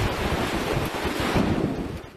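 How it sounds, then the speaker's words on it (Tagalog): Strong wind from a tornado in Bacolor, Pampanga, buffets the microphone in rough, roaring gusts, with a surging, surf-like rush throughout. "malakas na bugso ng hangin"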